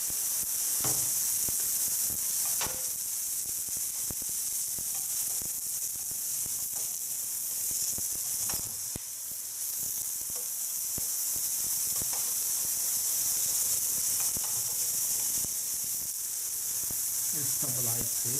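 Beef patties sizzle on a hot surface, a loud, continuous close hiss with scattered pops and scraping clicks, and voices talk quietly beneath it.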